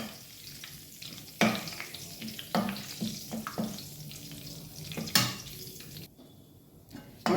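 Onions and curry leaves frying in a pan for Hyderabadi chicken red gravy, a steady close sizzle broken by sharp scraping stirs and clinks of a spoon against the pan, with no talking.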